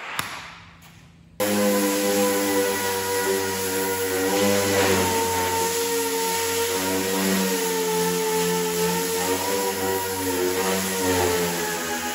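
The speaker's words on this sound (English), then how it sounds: "I am going to take my DA and I'm going to rough that hood up a little bit" A dual-action sander roughs up the hood of a Ferguson TO-35 tractor, starting after a short quiet moment into a steady, loud motor whine with a constant buzzing hum that holds for over ten seconds.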